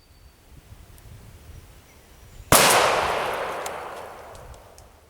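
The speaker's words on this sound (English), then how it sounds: "now I'm gonna move back and shoot at 30 yards" A turkey shotgun fires a single loud, sharp blast at a target 30 yards away outdoors, and the report rings and decays over a couple of seconds.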